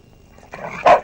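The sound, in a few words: dog barking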